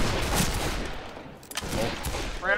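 Shotgun fire in the Western shooter game Fistful of Frags, a couple of loud blasts spaced about a second apart amid rattling in-game gunfire.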